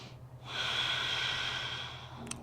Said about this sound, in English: Take a round of breath.